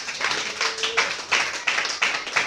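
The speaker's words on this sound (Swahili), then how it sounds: "Pigia Yesu makofi." A church congregation claps in worship, producing several rhythmic bursts of applause that rise and fall in a steady beat, fairly close and loud.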